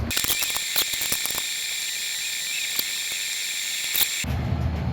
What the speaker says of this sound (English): Right here I got a really long wrench.